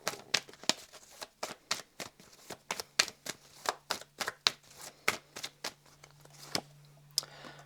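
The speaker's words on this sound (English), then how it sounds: "Give that a little bit of a shuffle and find one more" Tarot cards being shuffled close by, a run of about twenty crisp, evenly paced riffling slaps with a faint steady hum underneath and no talking.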